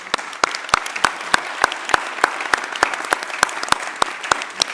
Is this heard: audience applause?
yes